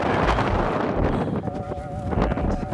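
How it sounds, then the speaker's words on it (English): Strong wind buffets the microphone with a constant low roar and gusting rumble, while a faint high tone wavers briefly underneath. "It's quite windy up here."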